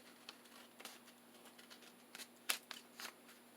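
Scissors trim excess paper for a junk journal project, producing a few faint, close, crisp snips and rustles in a quiet room, spaced irregularly.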